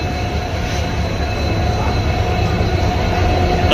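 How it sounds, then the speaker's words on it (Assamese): A passenger train pulls into a station in Assam, India, bound for Nagaon, with a loud, continuous rumble of rolling carriages and a high squeal of wheels on rails throughout. No talk is heard. "এই আমাৰ ট্ৰেইন আহি পালেই"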